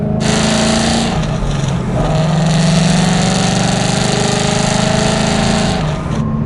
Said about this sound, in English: This is the Ford Racing exhaust, which still loud, but not as loud.